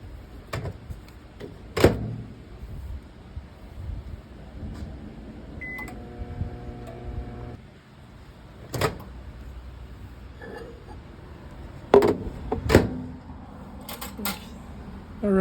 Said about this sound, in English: I'll throw this in the microwave for a couple minutes to get it started